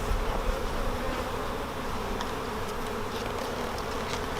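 A dense, steady hum of many honey bees buzzing close by at nucleus colony frames, continuous and even throughout with no voices.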